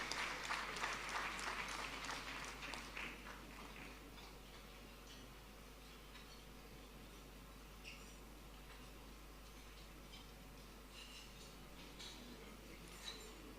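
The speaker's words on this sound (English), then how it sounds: "let's give her a round of applause" An audience at a silver jubilee anniversary dinner applauds. The clapping is strongest in the first few seconds, then fades to scattered, faint claps over a low steady hum.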